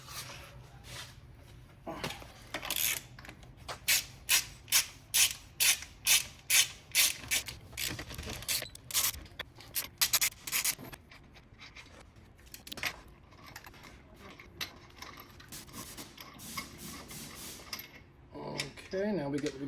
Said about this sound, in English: So let's go ahead and just remove this wheel the rest of the way.